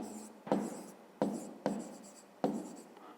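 Pen strokes scratching across paper while a math exercise is worked, in four short bursts, each a sharp start that fades away, close and fairly quiet, with no talking.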